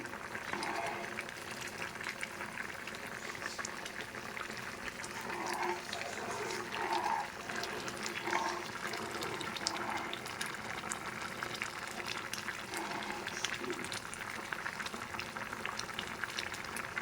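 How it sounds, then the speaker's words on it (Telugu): Vermicelli (semiya) boiling in coloured water for semiya kesari gives a steady, close bubbling and simmering that runs unbroken, with a faint voice in the background. "సేమే వాటర్లో బాగా మగ్గాలి ఉడకాలు కూడాను"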